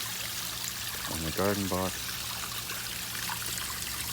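Water trickles steadily over a rebuilt slate garden waterfall, a soft continuous babble that runs under a brief spoken phrase in the middle.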